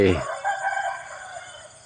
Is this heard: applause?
no